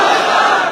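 A political rally crowd roars back in unison after a Nara-e-Takbir slogan, a loud, dense burst of many voices shouting together for under a second.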